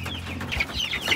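Ranch chickens give a few quick, nervous clucks close by, short bursts over a faint low hum.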